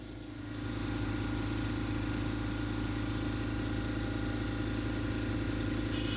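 A lapidary 220-grit grinding wheel shaping a cabochon, giving a steady, continuous motor-driven whir that rises in the first second and holds evenly and close, with no voices.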